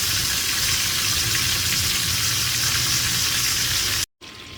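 Rellenong bangus, a stuffed milkfish with its head cut off to fit the pan, frying in hot oil with a loud, steady, close sizzle that stops abruptly near the end, then resumes more faintly.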